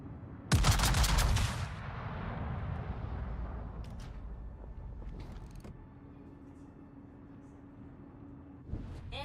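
Heavy warship guns firing in World of Warships, a loud booming salvo near the start, then a sustained low rumble that slowly fades, with faint distant booms and thuds afterward.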